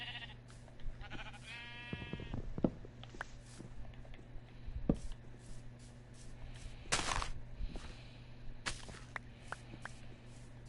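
Sheep bleat in Minecraft while penned in a greenhouse on snowy ground, two or three short wavering calls among soft footsteps and clicks, fairly faint and with no talking.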